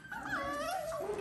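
Doodle puppies whimpering and yipping close by, a continuous high, wavering whine with rising and falling yelps, loud and without talk.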